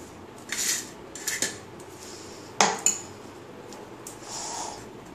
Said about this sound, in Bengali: আমি এটাকে মিক্সির কন্টেনার মধ্যে দিয়ে দিচ্ছি।